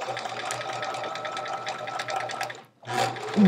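A sewing machine runs steadily while chain-piecing chevron quilt rows, a close, continuous mechanical whir that drops out briefly near the end before starting up again.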